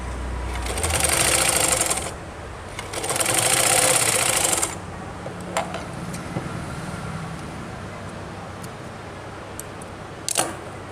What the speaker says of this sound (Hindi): और इसके ऊपर ऐसे सिलाई लगा देंगे